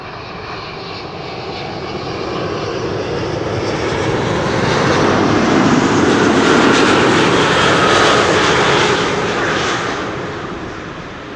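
Jet engines of a large airliner at an airport roar in a broad, loud rushing wash that swells to a peak and fades slightly as the plane passes, with no voices.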